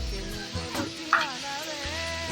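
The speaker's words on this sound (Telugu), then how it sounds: "కొద్దిగా కరివేపాకు వేసుకొని ఫ్రై చేసుకున్నాము" Onions and curry leaves fry in a pan with a soft steady sizzle, punctuated by a few stirring clinks and scrapes close by.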